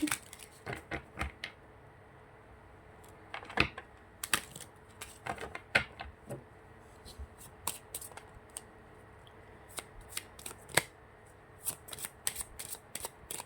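Crisp, irregular riffling and snapping of tarot cards being shuffled by hand, close and fairly quiet, in bursts with short pauses and no talking.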